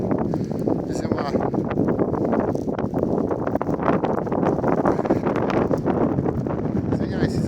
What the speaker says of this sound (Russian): Извиняюсь, если ветер сильный.